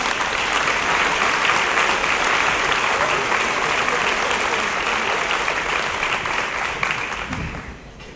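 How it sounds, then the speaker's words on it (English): Sustained applause from a high school awards ceremony audience, dense and even for several seconds before tapering off at the end. "Give her a round of applause"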